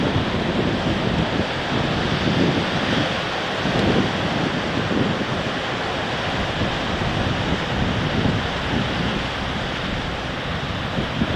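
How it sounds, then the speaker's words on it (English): Sea surf breaks on the coast at Cullen, a steady loud wash of waves with gusting wind buffeting the microphone and no voices. "and still a lot of surf."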